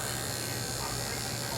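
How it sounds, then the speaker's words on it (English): An Andis Envy hair clipper buzzes steadily and close up while cutting a temple fade on a sponge haircut, a continuous electric hum with no pauses. "Then I'm going to the Andis Envy."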